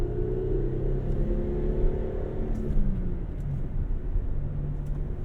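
A 2001 Toyota Camry V6 with a manual gearbox drives along, its engine droning steadily and its pitch rising and then dropping as gears change, with continuous road rumble inside the cabin.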